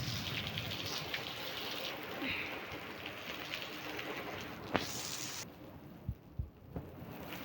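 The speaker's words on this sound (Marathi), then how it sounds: "या मुसळधार पावसामुळे जास्त पाणी येत आहे आणि विजाही बहुत कडकड येत आहेत" Heavy monsoon downpour in Gadchiroli that has flooded a stadium, a dense, steady roar of rain throughout, with a few dull thumps near the end.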